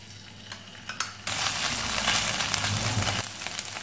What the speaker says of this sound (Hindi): 3 टेबल स्पून ओलिव ऑयल, लहसुन अदरक पेस्ट डालेंगे